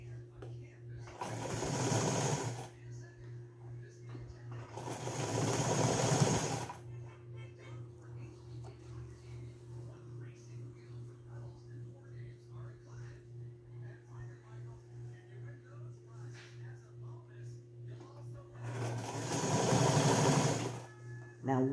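A pedal-powered treadle sewing machine stitches a sun or gardening bonnet, giving a soft, steady rhythmic whir and ticking. Louder stretches of talk break in near the start and end.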